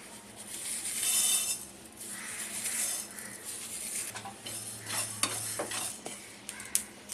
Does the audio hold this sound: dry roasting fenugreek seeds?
yes